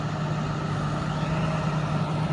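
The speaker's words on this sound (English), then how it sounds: "Somebody doesn't have a muffler on their little Chevy." A loud, rough engine rumble from a small Chevy with no muffler drones steadily and close, with a harsh, unmuffled growl and no pauses.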